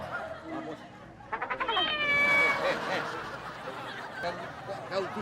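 A man imitates a cat meowing in an Indonesian comedy sketch, producing a run of quick, rising mews that stretch into a drawn-out wavering yowl, loud and close, with other voices and chuckles around it.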